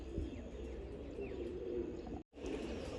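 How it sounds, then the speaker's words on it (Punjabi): Soft, steady cooing of Lalsara pigeons carries on throughout with a few faint chirps mixed in, broken by a very brief gap near the end. "ਉਸਤਾਦ ਰਾਜਨ ਵਾਲੇ ਕਬੂਤਰਾਂ ਦੇ ਵਿੱਚੋਂ ਵੱਡੇ ਜਿਹੜੇ ਲਾਲਸਰੇ ਕਬੂਤਰ ਮਸ਼ਹੂਰ ਹੋਏ ਸੀਗੇ"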